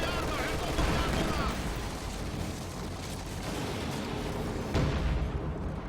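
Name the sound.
artillery and gun fire in Company of Heroes 2 video game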